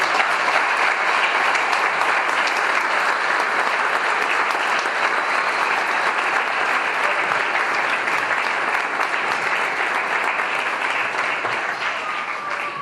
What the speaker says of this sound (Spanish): yo quiero que lo recibamos con un fuerte aplauso.